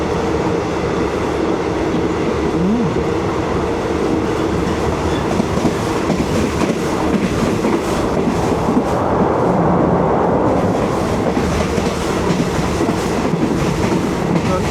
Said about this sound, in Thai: ตอนนี้รถไฟวิ่งเร็วมากเลย